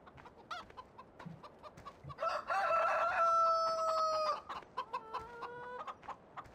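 Chickens cluck and a rooster crows in a Farming Simulator coop holding about 150 hens. The crowing call rises strongly in the middle and is followed by repeated clucks. Lighter clucking and scattered bird noises continue throughout, with no talking.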